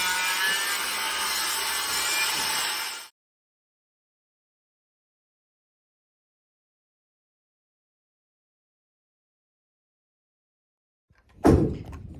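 Saw cutting through wood while framing a floor, a loud steady rasping burst for about three seconds, then long silence before a short sharp knock near the end.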